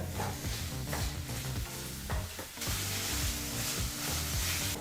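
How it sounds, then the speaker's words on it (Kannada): Chopped capsicum frying in a pan over a medium flame, a dense continuous sizzle broken by repeated scraping stirs and clatter of the spatula, close and fairly loud. "ಈ ಕ್ಯಾಪ್ಸಿಕಮನ್ನು ಎರಡರಿಂದ ಮೂರು ನಿಮಿಷ ಮೀಡಿಯಂ ಫ್ಲೇಮಲ್ಲೇ ಫ್ರೈ ಮಾಡ್ಕೋಬೇಕಾಗತ್ತೆ"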